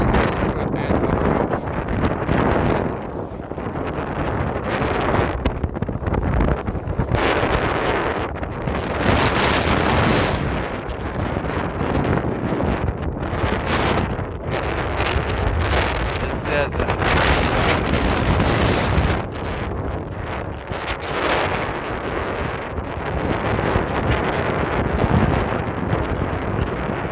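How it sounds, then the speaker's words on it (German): Steady roaring wind buffets the microphone throughout, with a broad rushing whoosh that swells and fades in gusts from Nordex N131/3600 wind turbines running at full rated load nearby, at the Zahrenholz wind farm in Germany. "Ich bin hier gerade im Windpark Zahrenholz. Und wie man sieht, sind wir auf Nennlast."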